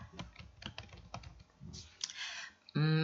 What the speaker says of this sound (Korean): 이름을 입력하고 키보드 엔터 키를 눌러서 입력을 완료해 줍니다